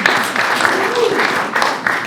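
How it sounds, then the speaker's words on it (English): Audience at a Great Neck Historical Society talk on Kensington, Long Island, clapping in a sustained round, fairly loud with uneven swells and a faint voice or two underneath. "So we'll give ourselves a round of applause."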